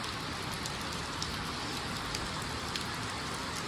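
Steady, dense rain hisses down continuously on an elephant shelter, with occasional louder drops splashing close by; no voices.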